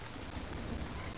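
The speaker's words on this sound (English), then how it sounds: "It's raining." Rain falling in an animated kids' show, a steady dense hiss of drops filling the short moment without any voices over it.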